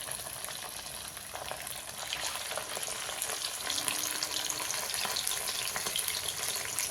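Chicken 65 pieces deep-fry in hot oil, giving a steady, close bubbling sizzle that rises slightly in intensity and continues without a break and without speech.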